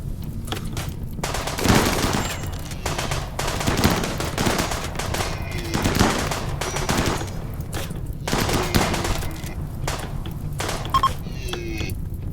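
Rapid gunfire bursts from a firefight in the video game RimWorld, with repeated volleys and scattered single shots crackling over a continuous busy background for several seconds.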